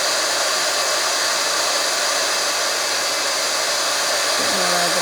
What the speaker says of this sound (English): Can you see it going white as I move the heat tool over the top?